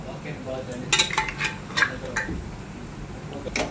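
Raw chicken being mixed by hand in a bowl, giving scattered wet clinks and squelching knocks against the dish, mostly in short bursts over a low steady background.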